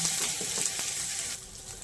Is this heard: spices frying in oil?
yes